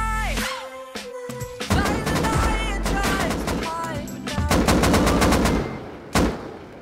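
An AK rifle in the survival game Rust fires long, rapid full-auto sprays, loud and close, in several dense bursts with short pauses between them.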